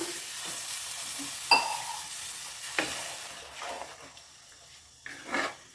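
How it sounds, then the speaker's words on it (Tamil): Water goes into a sizzling ridge gourd and dried anchovy gravy in a pan, giving a soft hiss and bubbling with a few brief clinks and stirring sounds, quiet and close. "இப்போ ஒரு அரை டம்ளர் தண்ணி சேர்த்துக்கலாம்"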